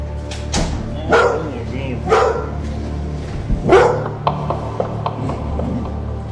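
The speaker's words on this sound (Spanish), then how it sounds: "El perro se encontraba ladrando nerviosamente como si viera a algo." A dog barks nervously indoors, several sharp barks spaced a second or so apart, with a few softer yips and faint mechanical clicks over a low background hum.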